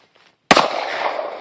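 A single sharp gunshot from a .357 revolver or Glock pistol cracks out loud and close after a near-silent start, then rings off in a long, rolling echo that trails away slowly.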